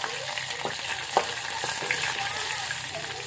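Garlic and curry leaves fry in a pan with a steady low sizzle, broken by a few soft stirring clinks and scrapes; no talk over it.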